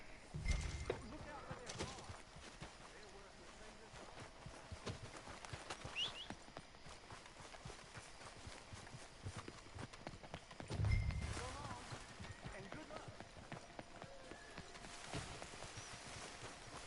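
Horse hooves clip-clopping in Red Dead Redemption 2, a steady run of faint hoofbeats under quiet game sound, with heavier thumps near the start and around eleven seconds.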